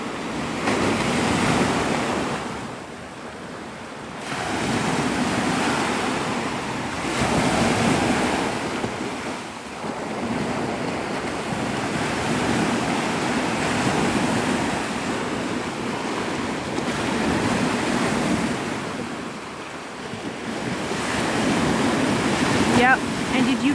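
Ocean surf rolls continuously onto Navarre Beach, Florida, with steady broadband wash swelling and easing in slow surges and some wind rumbling across the microphone; no talk over it.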